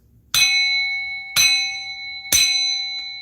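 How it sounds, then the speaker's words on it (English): A bell struck three times at a steady pace, each ring bright and metallic with a long, shimmering ring-out between strikes. "I'm gonna bang this bell."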